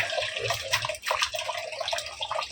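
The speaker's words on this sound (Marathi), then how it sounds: "पाण्यात बुडवून जरा नाईट सूट धुते" Close splashing and sloshing of water with wet rubbing and swishing as a night suit is dunked and scrubbed with soap in a tub.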